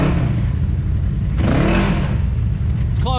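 A Can-Am X3 or Polaris turbo UTV works up a rocky trail, its engine droning loud and close with rising and falling revs under rumbling wind and terrain noise.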